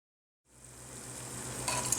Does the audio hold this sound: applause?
no